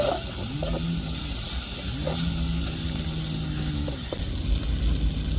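Ginger, garlic and green chilli sizzle steadily in a hot pan, a continuous close frying hiss broken by a few soft stirring knocks, with no voices.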